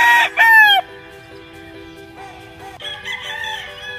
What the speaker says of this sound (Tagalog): nakita nyo na naman po yung yellow-legged hatch.